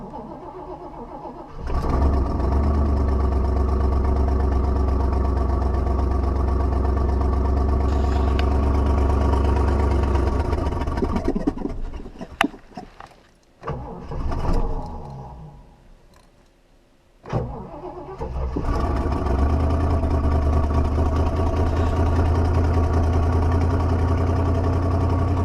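Cadillac Eldorado with a long-idle carburetor and weak battery, engine running with a steady low rumble, then dropping and stumbling briefly before settling back into a loud, even idle.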